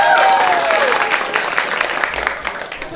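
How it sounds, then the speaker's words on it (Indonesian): Loud, lively applause from an audience at a school language-month competition final, a continuous dense clatter of clapping, with a brief voice or tone at the start. "Kasih tepuk tangan yang meriah."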